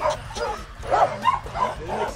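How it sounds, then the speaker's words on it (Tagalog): An excited dog yips and whimpers in short, repeated bursts at close range, with a few sharper barks mixed in as animals are about to be fed. "bumabakbak na si Doggy o"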